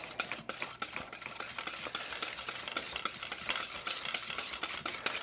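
Teriyaki beef jerky marinade with soy sauce being stirred in a bowl, a quiet run of clinking, scraping spoon strokes, close and fairly soft with no talk.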